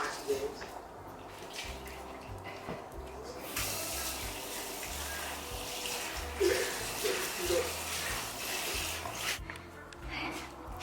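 Dog food poured into a bowl makes a steady running sound like a tap into a sink, with soft splashing and a few clinks, while a person talks faintly in the background.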